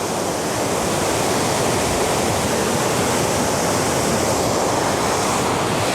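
Water rushes through the opened gates of a dam at Bhanvad after rain, making a loud, steady roar that fills the whole span without a break.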